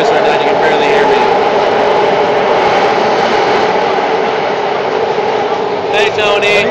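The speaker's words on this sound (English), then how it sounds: "I'm taking a video of the noise on Bart" BART subway train heard from inside the car, a loud continuous roaring rumble and screech of wheels on rail that fills the whole stretch, with faint voices buried underneath.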